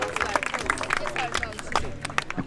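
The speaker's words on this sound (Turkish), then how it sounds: "bir alkış daha lütfen." An audience at a street music performance in a public square gives scattered, moderately quiet claps over a background of chatter and street noise.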